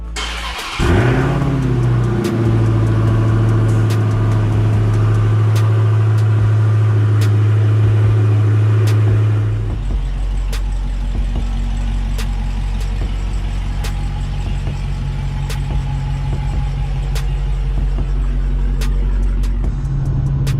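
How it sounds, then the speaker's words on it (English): A 2020 widebody Dodge Challenger Hellcat engine cranks briefly and catches on a cold start, then runs at a high, steady idle before dropping to a lower, settled idle. No voices, close and loud throughout. "let me give you a quick cold start"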